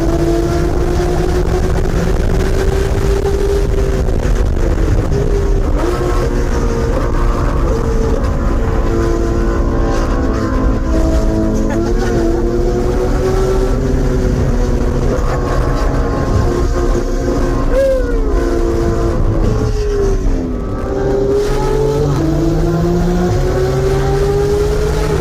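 Two 2022 Porsche 911s, a GT2 RS and a GT3 RS, scream at wide open throttle around a race track, a loud continuous engine howl rising and dropping through gear changes, heard from inside the car for the whole stretch.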